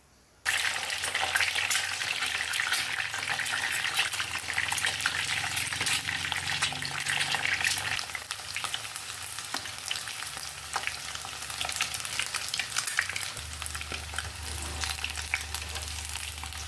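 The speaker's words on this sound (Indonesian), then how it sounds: "Ini digoreng sebentar saja, cukup sampai berkulit." Eggs frying in hot cooking oil over medium heat, a steady broadband sizzle that runs close and continuous with no talking, with a low bubbling undertone that grows heavier near the end.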